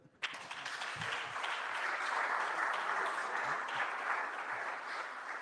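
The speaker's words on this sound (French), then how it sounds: "On peut les applaudir." Steady applause from an event audience greeting the new Marketing Champions at a Salesforce Marketing Cloud user group evening, starting abruptly and holding a dense, even clatter of many hands throughout.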